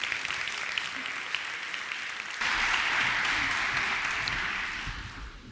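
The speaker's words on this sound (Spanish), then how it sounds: "Un aplauso también para Miguel." Audience applause at an agricultural technology conference at the Zaragoza trade fair, light clapping that swells into fuller, louder applause midway, then gradually fades.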